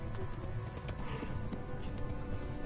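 Horse hooves galloping in the video game Kingdom Come: Deliverance: rapid, continuous clip-clop beats under a rumbling mix of game background noise, fairly loud and close throughout.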